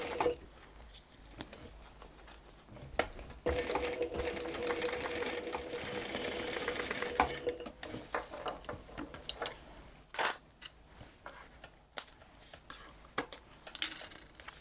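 A sewing machine top stitches the thick straps of a cross body bag, running in a steady whir for several seconds before stopping, followed by scattered fabric handling clicks and taps, with no one talking.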